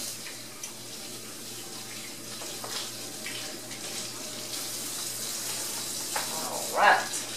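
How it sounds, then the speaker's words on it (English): Water runs steadily from a tap as hands are washed in a home kitchen before bread making, a soft continuous splash with light clatter and a louder splash near the end. "So we're going to wash our hands, and then we're going to get started."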